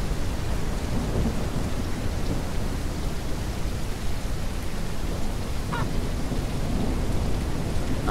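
Steady heavy rain with rumbling thunder from a thunderstorm in the Ranch Simulator video game, a dense constant wash of noise holding evenly for the whole stretch, with no voices.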